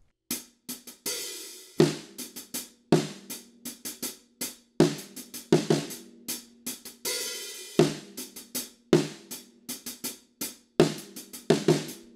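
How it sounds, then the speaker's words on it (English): A solo drum groove of crisp hi-hat strokes and sharp snare hits in a repeating, syncopated rhythm, close and clear with no talking. "let's isolate the hi-hat and snare now"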